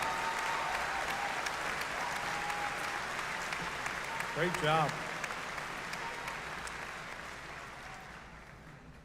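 Audience applause at a university spring commencement ceremony, a broad steady wash of clapping from a large crowd that runs throughout, with a brief spoken voice rising over it near the middle.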